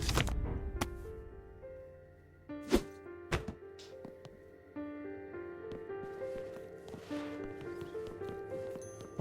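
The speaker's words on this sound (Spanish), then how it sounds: "Un caballo esqueleto." Hooves of a skeleton horse in the video game Psychonauts 2 clop irregularly amid sharp thunks and a sustained musical tone, with faint game sounds around them.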